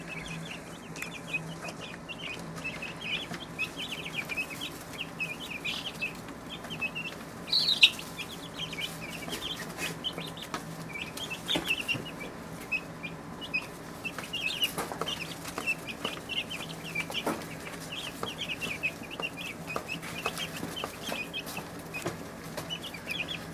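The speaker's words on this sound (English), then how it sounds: "Have a zoom in of some chicks." Young chicks, less than a day old, cheep continuously in a high, busy chorus, with many overlapping peeps and no voices.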